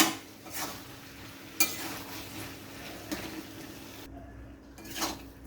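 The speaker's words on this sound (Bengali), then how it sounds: "আমি আবারও ভালোভাবে সবজিগুলোকে খুঁটি দিয়ে একটু ঘাটা ঘাটা করে নিই" Vegetables for a Bengali puin-leaf and stem chorchori are stirred in a kadai with a spatula, giving a few soft scraping strokes spread over several seconds against a steady low background hum.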